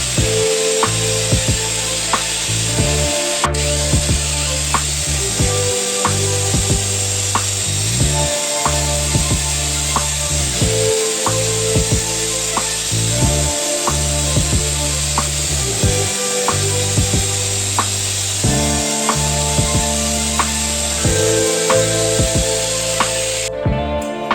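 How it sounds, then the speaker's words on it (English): A power drill runs in repeated bursts, its motor whining and churning as it stirs thick mortar, stopping briefly between each run. "Mix with a drill."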